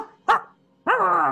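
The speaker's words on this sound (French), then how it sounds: "T'entends des aboiements." Dogs barking and scuffling on a battlefield: a short sharp bark, a pause, then a longer loud growling bark-whine, close and alone.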